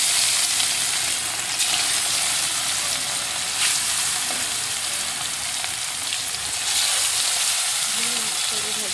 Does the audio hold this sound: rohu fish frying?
yes